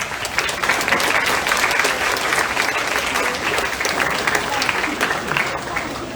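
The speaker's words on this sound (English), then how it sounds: "So do join me in giving a round of applause for this year's participants." Audience applause at the OneArena 2022 closing ceremony honouring the year's participants: dense, steady clapping from a sizeable crowd, loud and continuous for the full stretch without a break.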